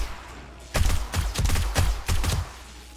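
A German SMG in 7 Days To Die Alpha 18 rips off several short, loud bursts of automatic fire in quick succession during a night horde attack, with brief pauses between volleys.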